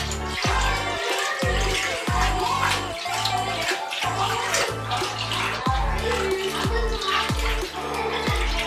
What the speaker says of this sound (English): Now we're pouring the milk.